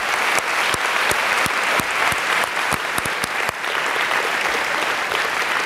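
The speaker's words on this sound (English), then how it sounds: "let's give them all a big applause" A large crowd applauds a stage of graduate student instructors at a ceremony, the clapping dense and steady, loud and close throughout, with a few sharper individual claps standing out.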